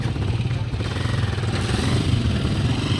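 A motorcycle passes close by on a city street in Makati, its engine a steady, loud, chugging drone throughout with no voices over it.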